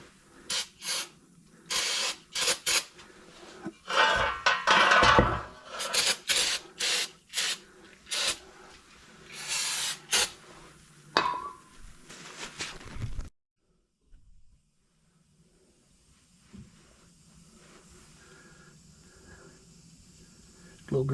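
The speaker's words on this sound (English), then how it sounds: "Clean it up with a little brake clean." Brake cleaner hisses from a spray can onto a Ford F-250 front axle part during u-joint replacement, with short bursts and rubbing wipes over the first thirteen seconds, followed by quieter workshop sounds; someone talks intermittently throughout.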